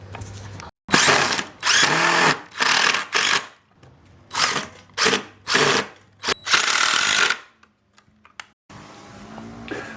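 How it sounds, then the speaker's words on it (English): Power drill boring pocket holes in wood for a patio table frame, loud close bursts of high whining drilling in about ten short runs separated by brief silences, ending with quieter handling noises. "A couple more pocket holes and we'll be right"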